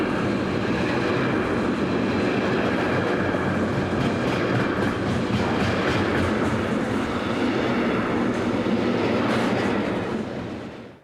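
A freight train rolls past on a busy main line, a loud, sustained rumble with rhythmic wheel clatter that holds steady for about ten seconds before tailing off, without any voices.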